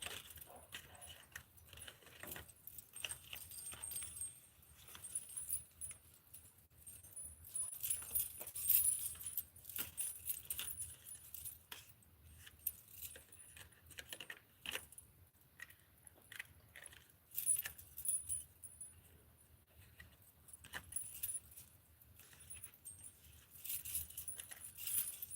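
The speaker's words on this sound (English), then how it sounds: "I'm gonna start shuffling cards for you, Eric." A deck of playing cards is shuffled in a long series of crisp riffles and soft slaps. Bursts come at irregular intervals and are quiet and close, with pauses between them.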